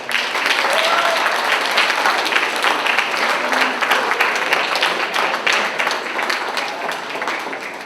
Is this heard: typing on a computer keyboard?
no